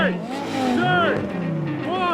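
A BMW M5 V8 engine revs hard beside another car at a drag race start, its pitch sweeping up and down loudly and close, overlapping a second engine.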